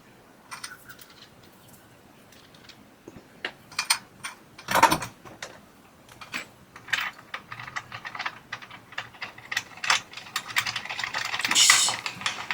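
Hand tools at work on the front drum roller of an LG DLE7200WE dryer, giving sparse, close metallic clicks and ratcheting bursts with short pauses between them, and a louder clattering run toward the end.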